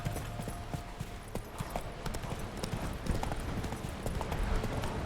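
Horse hooves gallop in The Witcher 3 with a fast, steady clip-clop rhythm that runs the whole clip. The hoofbeats sit close and fairly loud over a dense bed of game ambience.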